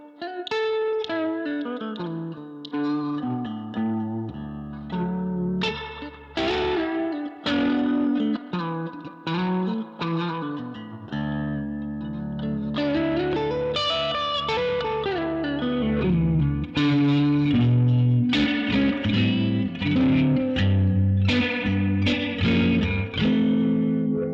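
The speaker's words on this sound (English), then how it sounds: "I like how it degrades the reverb sound." Electric guitar played through a pedalboard with a reverb pedal set to a degraded, lo-fi reverb, giving distorted, chorus-like washy chords and melodic lines that ring on continuously without speech.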